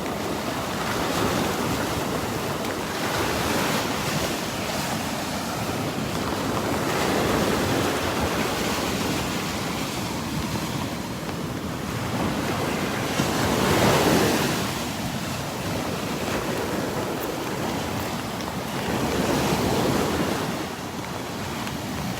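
Surf rolling onto the beach at Delnor-Wiggins Pass State Park in North Naples, with steady wind buffeting the microphone; a continuous loud wash of waves with gentle swells and no talking.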